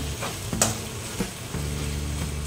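Ginataang tangkay ng gabi, taro stalks in coconut milk, stirred in a sizzling pan, with a few sharp scrapes and clinks of the spoon against the pan over a steady close frying hiss that grows fuller near the end.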